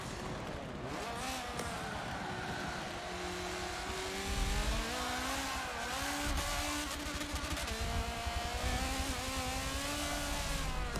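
A Nissan GT-R GT3 race car on stock brakes runs in Forza 7 endurance racing, its engine droning steadily with rising and falling revs and gear changes, loud and continuous with no talk.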